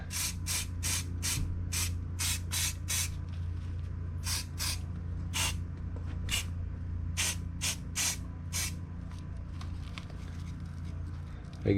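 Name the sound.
spray paint spraying inside of model truck parts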